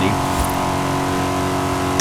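A stock 2020 Corvette Stingray engine in Forza Horizon 5 pulls hard toward top speed, a loud, sustained steady drone with layered harmonics running the whole way through.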